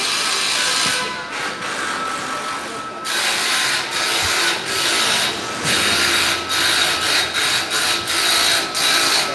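Workers putting up scaffolding make continuous loud industrial noise: harsh scraping, grinding and rasping in repeated bursts, with a few knocks.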